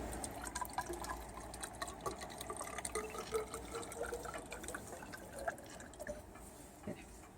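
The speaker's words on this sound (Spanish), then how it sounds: "El agua que lleve durante todo el día lo echas ahí." Rainwater collected over a day at a weather station in Amurrio poured from a rain gauge into a graduated measuring cylinder, a steady close trickle and splash with small drips, fairly quiet throughout.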